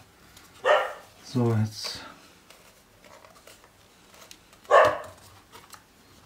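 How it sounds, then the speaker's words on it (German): Dogs bark in several sharp bursts, a close volley of barks early on and another single loud bark near the end, while someone speaks briefly in German. "Kläffen erstmal meine Hunde wieder."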